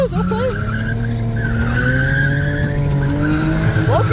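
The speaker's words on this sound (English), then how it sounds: "We spun out and went to the dirt again." A manual Lexus GS300 drifts at a speedway, its tires squealing in a long, continuous, loud skid over a droning engine as the car spins out toward the dirt.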